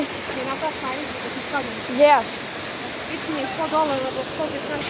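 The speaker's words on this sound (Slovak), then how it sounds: "tu ma skoro ani nepočuť, lebo tu je vodopád" A waterfall roars as a steady, loud hiss of falling water. Chirping birdsong sits faintly on top of it.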